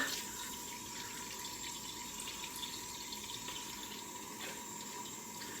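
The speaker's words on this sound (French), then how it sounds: "On va mettre de l'eau claire." Clear water runs steadily from a tap into a basin to rinse wool, making a constant splashing rush at moderate level with no break and no talking.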